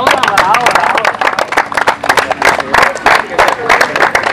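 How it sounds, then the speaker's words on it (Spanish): A crowd applauds during a rugby team's uniform presentation, with dense, loud, steady clapping mixed with crowd murmur and a few cheers. "Aplausos."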